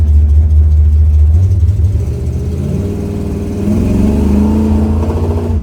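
A 1969 Chevrolet Nova with a 454 big-block V8 and positraction, a Yenko SYC tribute, pulls hard in third gear, its deep engine roar rising steadily and staying loud and close without talk.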